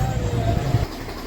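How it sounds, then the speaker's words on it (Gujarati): A tractor engine rumbling close by on a road repair site, a steady low motor drone that eases off partway through, with no talking over it. "પાછળ આવી ગયું ટ્રેક્ટર એનાથી બોલતી આવે પાછળ"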